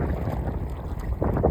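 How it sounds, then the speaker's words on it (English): Heavy wind, gusting around 15 to 20 knots, roars over an Old Town 120 PDL Pro kayak on the water, a loud continuous rumble of microphone buffeting throughout. "So yeah, this has got a pretty heavy wind, as you can see"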